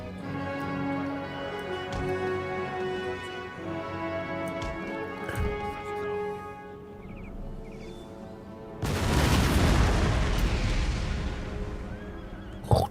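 Cannon fire in the Total War: Empire strategy game comes as one sudden, loud boom that breaks out after a long stretch of layered ambient battlefield sound and then rumbles on.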